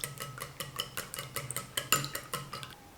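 Three eggs whisked briskly in a bowl, a rapid run of bright clinking strokes as the utensil hits the bowl's sides, steady and close, with no voices.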